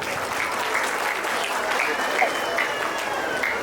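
Audience clapping to encourage children at an abacus class demonstration, a steady dense round of applause throughout, fairly close, with a faint voice and a few tonal squeaks over it.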